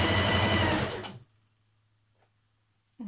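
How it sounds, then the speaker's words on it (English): Sewing machine with a twin needle topstitching a T-shirt hem, a fast steady whirr for just over a second that stops, then silence before a brief restart. "Doing the same on my hem, using my twin needle, just turning it up,"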